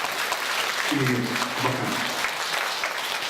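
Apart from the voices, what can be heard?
audience applause at a concert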